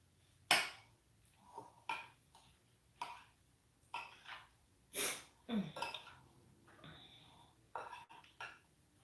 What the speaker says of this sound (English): We're just gonna give that a stir.